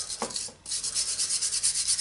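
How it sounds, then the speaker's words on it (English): Sandpaper rubbed by hand over a hand drill being restored, a close, steady rasping scrape in quick repeated strokes with a brief pause early on. "Of course you can use the sanding paper or some similar abrasive"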